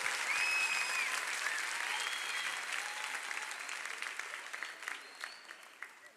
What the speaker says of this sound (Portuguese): Pode aplaudir Jesus, coisa maravilhosa, glória a Deus.